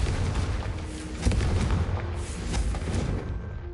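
Hogwarts Legacy combat with Confringo spells, loud booming blasts and rumbling fiery explosions piling up over steady battle noise, close and continuous.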